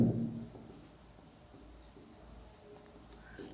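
A math formula being written out by hand, a faint scratching of pen or chalk heard in short strokes against a quiet room, without talk.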